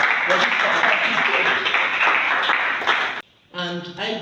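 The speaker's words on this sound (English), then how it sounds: "let's give a round of applause to WS." A crowd claps steadily for about three seconds, dense and close, before it cuts off and a voice begins speaking.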